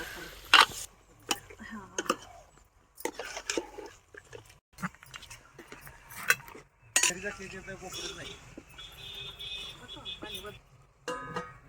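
Mutton pieces being stirred in a pot on a wood-fired stove give intermittent metallic scrapes and clinks of a utensil against the pot, with quiet gaps and someone talking in between.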